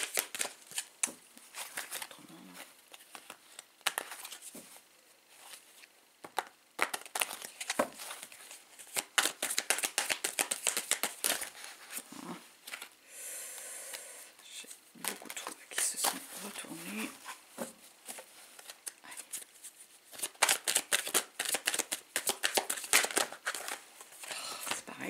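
Tarot cards shuffled by hand, some sticking together, giving crisp riffling and flicking bursts that come and go throughout, with someone talking over them.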